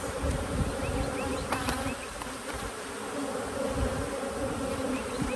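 A dense, steady hum of many honey bees buzzing close by during a hive inspection, continuous and loud with a constant drone throughout.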